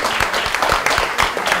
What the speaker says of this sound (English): Thunderously clap for Team Reserve Bank of India.